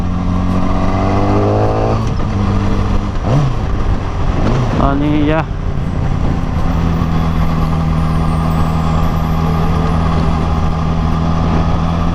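A Yamaha R6 superbike engine drones steadily while being ridden, with one quick rev rising and falling partway through, and someone talks over it throughout.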